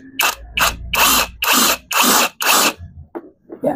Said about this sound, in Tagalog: gagamit ako ng impact para medyo mabilis